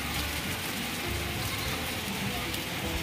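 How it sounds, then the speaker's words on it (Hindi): Heavy unseasonal rain pours steadily and densely in Allahabad, India, a constant hiss of drops hitting surfaces close by, with no break in the downpour. "बारिश हो रही है बहुत तेज"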